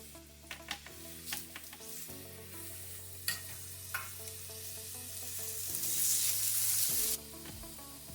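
Fatty pork pieces sizzling in a preheated, well-seasoned pan with no added oil, a steady quiet crackle with scattered sharp pops and a brief louder hiss near the end, close up and without talking.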